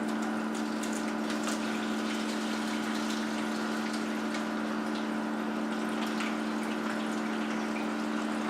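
Water carrying a new batch of aquarium fish, including blue gourami and angelfish, pours into a net in a steady continuous gush over a constant pump hum, with no talk.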